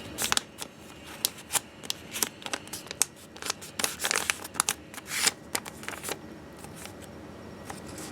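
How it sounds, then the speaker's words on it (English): Sheet of paper being folded in half for an origami box craft, giving a run of crisp, close crinkles and sharp creasing snaps in irregular bursts, fairly quiet and with no talking. "you're going to fold the sheet of paper in half"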